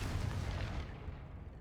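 Confringo spell explosion in the Hogwarts Legacy game, a single deep booming blast that rumbles and then fades within a second and a half.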